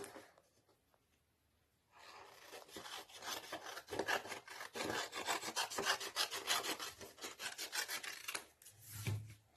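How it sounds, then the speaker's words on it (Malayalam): Scissors or a blade cut away the leftover strip of a folded colourful A4 sheet, a quiet pause giving way to a run of close, rapid crisp rasping strokes that end with a soft thump. "മിച്ചം വരുന്ന ഈ ഭാഗം നമുക്ക് കട്ട് ചെയ്ത് മാറ്റാം"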